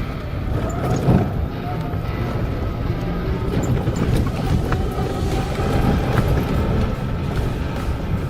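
An electric Vortex ATV cruising at top speed in all-wheel drive, heard as a continuous loud rush of wind buffeting the microphone with a low rumble, steady throughout.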